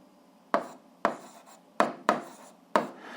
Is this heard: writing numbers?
yes